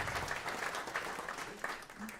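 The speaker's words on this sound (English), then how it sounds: "So give yourselves a big round of applause" An audience claps at a live radio event in a New York public radio venue, with a fairly quiet, uneven round of applause and some voices mixed in.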